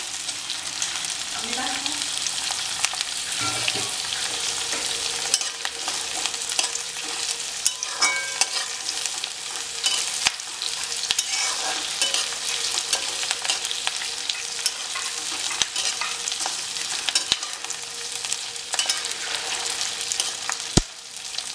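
Onion and capsicum stir-fried on a high flame for chilli chicken give a steady, close sizzle with intermittent scraping and tossing strokes throughout, and no voices.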